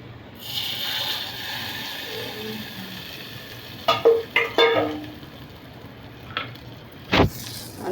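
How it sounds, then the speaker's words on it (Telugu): Dried red chillies sizzle in hot oil in a pan for a tempering for a coconut tomato chutney, a soft frying hiss broken by several sharp clinks and scrapes of a utensil. "పోపు వేసుకోవాలండి."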